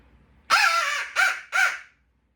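A hunting call blown to draw a gobble from a wild turkey: three loud, harsh, close calls, one long and two shorter, coming after a quiet start and ending in silence.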